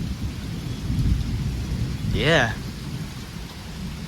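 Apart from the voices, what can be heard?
thunderstorm with thunder and rain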